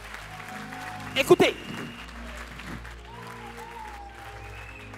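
A church congregation claps and cheers for the Lord in a short loud burst, then quickly fades back under a speaking voice and quiet room ambience.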